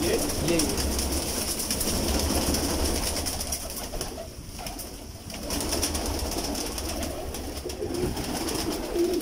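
A Chinese pigeon among breeding birds in a loft, low cooing blended with a steady dense background of other birds, with a voice talking over it.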